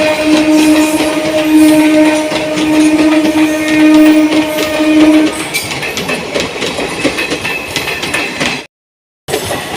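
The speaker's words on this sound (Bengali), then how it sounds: "চলে এসেছি আমরা দাসনগর স্টেশনে।" A local train rumbles at Dasnagar railway station with loud, close rolling noise, clacking wheels and a sustained squeal or horn tone that stops midway. A brief dropout to silence comes near the end, and there is no talk.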